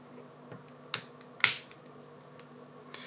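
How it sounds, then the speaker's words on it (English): A Redmi Note 10 Pro middle frame snapping into its main frame during a battery and back glass replacement: two sharp, close plastic clicks about half a second apart, the second louder, with fainter ticks around them in a quiet room. "Hear the clicking sounds."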